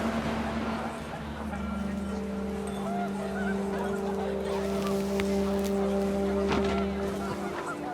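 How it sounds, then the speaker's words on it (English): Panicked geese honk in the video game What Remains of Edith Finch, steady overlapping calls over a constant windy rumble, loud and close throughout. "The wind picked up, and panicked geese appeared and quickly went."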